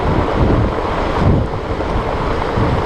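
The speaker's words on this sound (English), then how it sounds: "Big waves, you can hear the big waves." Big ocean waves surge and crash in a continuous rolling roar, heavily mixed with wind buffeting the microphone, loud and broad with no distinct voices.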